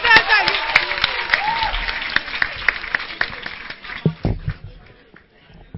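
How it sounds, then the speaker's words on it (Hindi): Scattered audience clapping at a college literary club's Hindi poetry recital, with a voice talking over the first part; claps come as uneven separate strikes that grow sparse and trail off toward the end. "जोरदार ताली"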